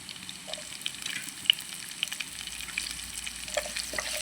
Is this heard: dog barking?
no